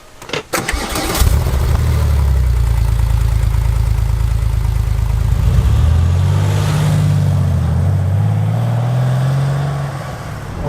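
Air-cooled Porsche 911 of the 993 generation, air and oil cooled, cranking and catching, then settling into a steady, loud, close idle with a slight wavering pitch and no talk.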